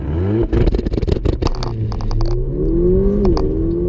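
An AMG Mercedes-Benz V8 engine revs hard, its pitch climbing steadily as it pulls above 3,000 RPM, with a clattering burst of gear noise early on.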